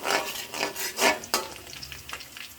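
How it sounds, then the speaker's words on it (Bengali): Onion and green chillies fry in oil for a bean and potato bhaji, producing close, uneven bursts of sizzle and scraping as they are stirred around the pan, several strokes in quick succession. "তেলের মধ্যে পেঁয়াজ এবং কাঁচামরিচ দিয়ে নিলাম"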